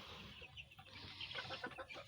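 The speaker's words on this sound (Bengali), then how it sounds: "ওই দেখুন ওই ডিম পাড়া মুরগি" Laying hens in a backyard coop cluck in short, overlapping bursts, fairly close and moderately loud, with no talk over them.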